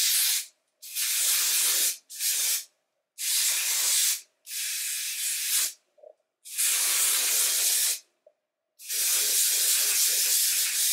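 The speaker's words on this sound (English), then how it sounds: "I'm just going to spray this all over" Hair product is sprayed over natural leave-out hair while preparing a quick weave, heard as six long hissing bursts, each one to two seconds long, separated by short silent gaps, close and fairly loud, with no talking.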